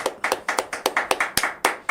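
Crisp, evenly spaced claps, about a dozen in quick succession, sound close and fairly loud from a small group clapping in rhythm at a Brazilian political talk with an audience.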